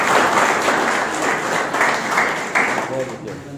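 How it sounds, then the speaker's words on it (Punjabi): A crowd gives a man a round of applause for his impressive moustache during a street interview with youth in Amritsar district, with steady dense clapping throughout and a voice rising near the end. "ਤਾੜੀਆਂ ਮਾਰ ਦਿਓ ਇਹਦੀਆਂ ਮੁੱਛਾਂ ਲਈ ਇੱਕ ਵਾਰੀ।"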